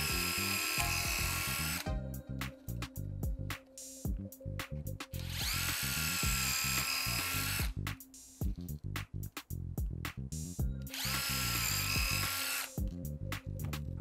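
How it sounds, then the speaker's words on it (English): A small power drill whines loudly in repeated bursts while drilling holes in popsicle sticks, each run lasting a few seconds with brief pauses between them. "I'm gonna go ahead and drill a hole, one on each end and then one in the middle"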